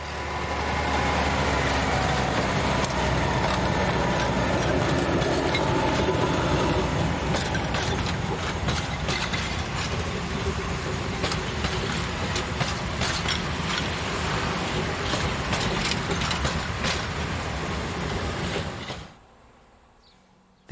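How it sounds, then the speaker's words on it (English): An Mk48 diesel locomotive hauling basic wooden seat stock, a steady loud rumble with rhythmic rail clatter and wheel noise throughout, cutting off abruptly near the end. "Motive power is provided by a fleet of Mk48 diesels hauling basic wooden seat stock"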